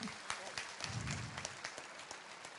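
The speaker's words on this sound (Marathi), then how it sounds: "एकदा जोरात टाळ्या होऊन जाऊ द्या खूप." An audience gives a dense round of clapping at a book launch and Dhamma talk, steady throughout, heard from within a large hall at moderate level.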